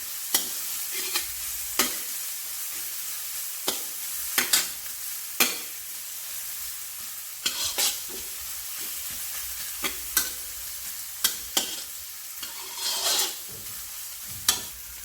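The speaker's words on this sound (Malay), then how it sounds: "Tumiskan semua bawang itu." Onions sauté in a pan for Chinese-style sweet and sour duck with calamansi lime. A steady sizzle runs throughout, broken by repeated sharp scrapes and clacks of stirring, close up and with no talk.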